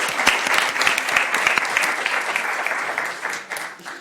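A conference audience applauds at the close of the event, with a full, sustained burst of many hands clapping that begins to thin out toward the end.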